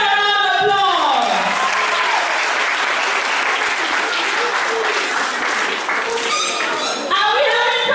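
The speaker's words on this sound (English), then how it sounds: "Give them a round of applause." Parents and audience at a school declamation contest applaud year 1 children with sustained, dense clapping, a voice speaking over it at the start and again near the end.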